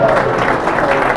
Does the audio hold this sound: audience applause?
yes